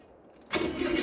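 Silence, then a John Deere tractor engine in Farming Simulator 22 abruptly starts and settles into a loud, steady rumble.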